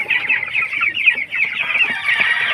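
Hens clucking at their nests give a dense, continuous run of close, lively clucks and short murmurs over a quiet background.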